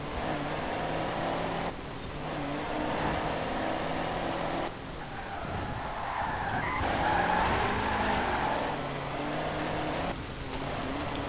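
A car sliding round a corner in the racing game Forza Horizon 4, with a long loud tyre squeal over a steady engine drone that rises and falls as it drifts.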